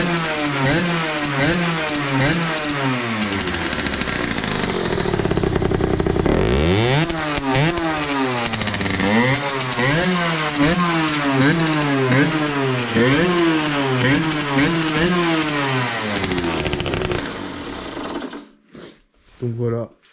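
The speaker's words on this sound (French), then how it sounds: "la moto, elle démarre, elle prend les tours" A restored Sherco motorcycle engine starts up and revs repeatedly, rising and falling in steady waves up close, loud and continuous before cutting off near the end.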